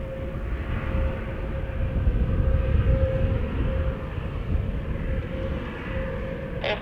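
A Frontier Airlines jet takes off from runway 6 right, giving a steady, broad engine roar that swells slightly mid-clip and then holds at a moderate distance, with a thin steady whine running through it.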